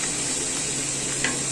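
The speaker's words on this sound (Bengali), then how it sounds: "এখন এটা ভালো করে আর একটু পানি দিয়ে কষিয়ে নিতে হবে" Chicken curry sautés with spices and a splash of water in a pan, a constant close sizzling hiss with one brief clink of stirring near the end.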